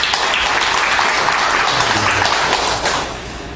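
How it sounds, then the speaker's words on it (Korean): A church congregation applauds loudly and steadily during a sermon, dense clapping that tapers slightly at the end. "큰 박수 보내주시기 바랍니다"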